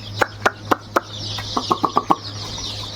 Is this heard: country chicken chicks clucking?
yes